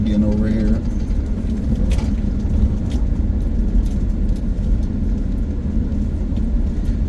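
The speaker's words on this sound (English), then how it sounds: "I've got a 3/4 ton pickup here." Inside a 3/4 ton pickup truck on a mountain road, a steady engine rumble and road noise drone throughout, with the brakes ridden hard on a descent, loud and close under occasional talk.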